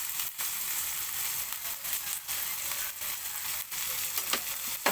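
Sausage frying in a hot pan for a home-cooked ampalaya with sotanghon dish, a dense continuous sizzle broken by scraping stirs, close up with no talk.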